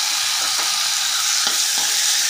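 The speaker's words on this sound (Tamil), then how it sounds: "ஸோ எல்லாத்தையும் நல்லா வதக்கி எடுத்துக்கோங்க" Potatoes and boiled onions sautéing in a pan for poori masala, a steady broadband sizzle with a few soft stirring scrapes, close and alone with no talking.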